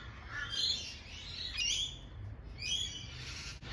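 Magpies call in the open outdoors of a city, giving several harsh, chattering bursts a second or so apart over steady background noise.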